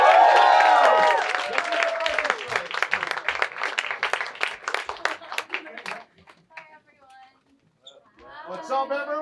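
Audience applause at a Los Angeles panel event with two celebrities, a loud burst of dense clapping with cheers that thins out over about six seconds, followed by a voice speaking over the quiet room.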